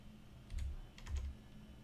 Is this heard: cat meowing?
no